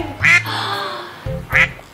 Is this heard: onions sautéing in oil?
no